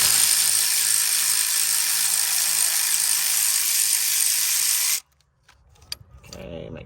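Ratchet wrench turning a bolt on a Honda Accord fuel pump, a fast continuous clicking that stops abruptly, followed by quiet handling noises.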